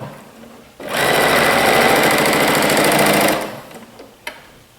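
A sewing machine stitches a dart on a pleated blouse, a close, loud, rapid whirring run of about two and a half seconds, then stops, followed by a small click.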